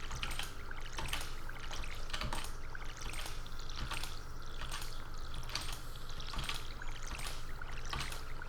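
Watering strawberry crops in the farming game Stardew Valley: repeated soft splashing, trickling pulses of water arriving roughly every second over a steady hum, with no talking.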